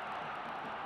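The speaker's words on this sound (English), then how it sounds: "Crowd enjoying it." Cricket crowd at an India versus Pakistan match, Independence Cup 1998, cheering a boundary four: a steady, dense roar of many voices for about a second, broad and sustained without individual shouts standing out.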